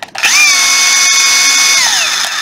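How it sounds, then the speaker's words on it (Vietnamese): A Makita brushless cordless drill runs at high speed with a steady whine, loud and close, spinning up after a brief start and holding pitch before easing off near the end; no talking. "đây khoan bê tông này"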